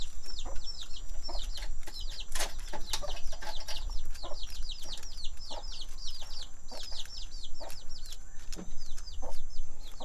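A flock of Leghorn chickens clucks and chirps continuously, many overlapping calls up close over a low steady hum, with sharp clicks scattered throughout.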